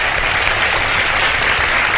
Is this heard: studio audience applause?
yes